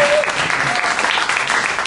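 Comedy show audience giving a short burst of applause, dense clapping throughout with a faint voice at the start.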